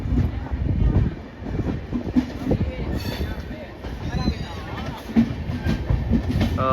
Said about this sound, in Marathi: इथे थांबली ट्रेन आणि आता इथून परत